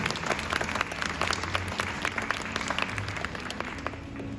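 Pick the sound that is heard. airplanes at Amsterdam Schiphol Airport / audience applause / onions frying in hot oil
audience applause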